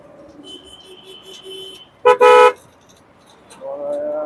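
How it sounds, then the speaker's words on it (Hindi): Car horns honk in busy holiday-season road traffic: a long horn tone at first, then a loud short double honk, and a later blast, all over a steady traffic hum. "बहुत रोड पे ट्रैफिक चला रहता है"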